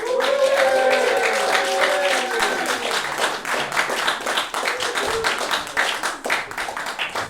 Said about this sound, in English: Please give a warm round of applause for Mark Silcox.